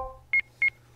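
Phone dialing in the Japanese horror visual novel Double Cast plays as two short, clear electronic keypad beeps in quick succession over a faint background hum.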